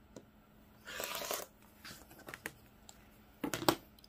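Fabric being cut down the middle of a pieced quilt block to make half-square triangles for flying geese, heard as a few short, crisp slicing and rustling bursts with quiet handling noises in between.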